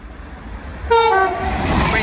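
Avanti West Coast Class 390 Pendolino passing through Nuneaton on the West Coast Main Line, a sudden loud two-tone horn blast cutting in over low rumble, then fading into the rush of the passing train.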